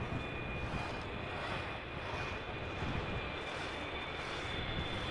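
Aircraft arriving at Amsterdam Schiphol Airport: a steady, broad jet engine roar holds at an even level throughout, with a faint high whine running constantly over it.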